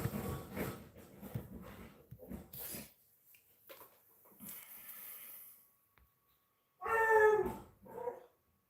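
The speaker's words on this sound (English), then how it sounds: "Oh, let me let this dog out." A dog indoors whimpers and barks amid rustling, with quiet gaps and then a louder, drawn-out howling whine near the end.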